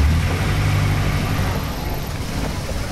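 An engine roars steadily and loudly at close range, mounted directly to the prop shaft of a long-tail boat on a river at a Thai floating market, with no breaks or pauses.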